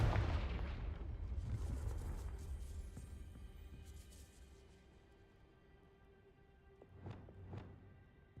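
A fiery blast from the Confringo spell in a Harry Potter video game: a loud explosive burst that rumbles and fades over several seconds, followed by two smaller sharp cracks near the end.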